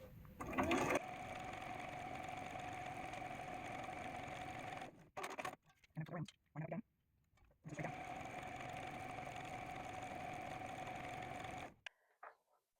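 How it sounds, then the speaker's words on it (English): A sewing machine stitches a quarter-inch seam on a quilt block, running in steady, close motor bursts: a long stretch, a few short stop-start runs with pauses, then another long steady run before stopping. "And it's going to sew a 1/4 inch on this side."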